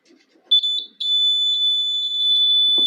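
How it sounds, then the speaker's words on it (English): A homemade burglar alarm built from a FIRC electronics kit rings with a steady, loud, high-pitched electronic tone that runs continuously after a brief first burst. "After connecting, the burglar's alarm will start ringing."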